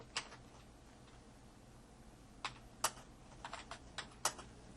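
Quiet computer keyboard typing while searching scripture text: a few isolated clicks, then a short burst of light taps near the end, faint and close against a low background hum, with no speech.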